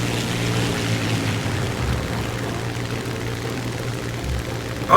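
Propeller airplane engine in the War Thunder video game drones steadily at close range, a constant throaty hum that holds level throughout, with no voices over it.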